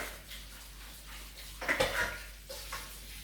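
Blanched spring vegetables rinsed and tossed under a running tap, giving a short, faint splash of water that rises for about half a second midway, with a couple of softer clinks afterward.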